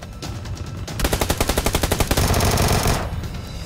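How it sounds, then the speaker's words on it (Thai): Automatic gunfire in the video game PUBG Lite: a loud, rapid burst of evenly spaced shots lasting about two seconds over a dense game soundscape, with no talking. "ยิงเสร็จหนึ่งตัว ต้องรีบเปลี่ยนแม็กอะฮะ กระสุนหมดไวมาก"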